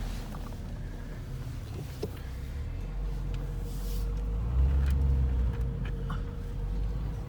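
A 1990 Ford Thunderbird engine idles and runs with a steady low rumble heard from inside the car, swelling slightly in the second half.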